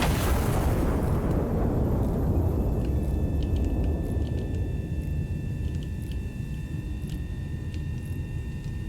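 A heavy turret cannon in a simulator game fires one huge boom that opens loud and rolls into a long, slowly fading rumble, with faint tones ringing behind it.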